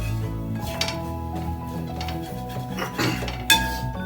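Masala being stirred and sautéed in a pan while cooking squid roast, with close metal spoon scrapes and clinks against the pan over a low background hum, no talking.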